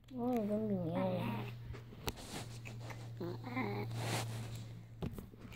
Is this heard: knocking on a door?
no